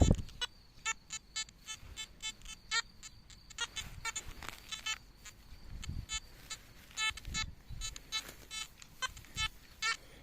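Handheld metal detector used while coin hunting in a town, giving repeated short electronic beeps and chirps in irregular bursts, fairly close and clear, with no talk.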